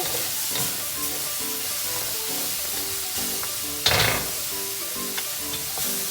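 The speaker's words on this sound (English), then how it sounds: "let that garlic get brown" Garlic sizzling and browning in a hot pan, a steady loud frying hiss with soft stirring clatter and one brief flare-up of crackle midway.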